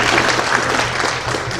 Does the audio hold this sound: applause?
yes